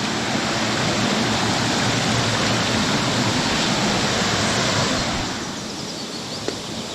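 River stream flowing over rocks in a forest, a loud, steady broadband rush of water that drops somewhat in level near the end, with no voices.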